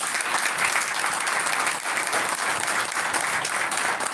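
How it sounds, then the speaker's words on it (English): A crowd gives sustained, dense applause at a school academic fair, a loud, steady wash of clapping from many hands that holds without a break. "A round of applause for them."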